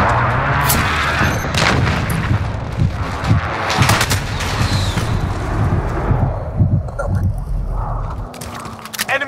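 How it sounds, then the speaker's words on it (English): Enemy precision airstrike in Call of Duty: Modern Warfare, heavy booming explosions and rumbling blasts in quick succession, loud and close, with gunfire crackle and brief voices mixed in. "Enemy precision airstrike, take cover!"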